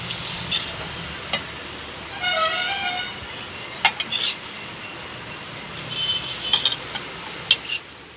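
Dry coconut for chutney, cooled after roasting, is tipped into a mixer jar, with scattered light metallic clinks of utensils against the jar, some sharp and close, over a steady soft background hiss.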